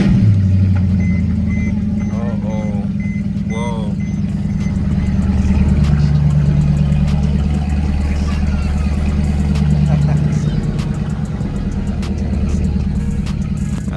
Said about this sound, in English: Now I'm gonna fire it up.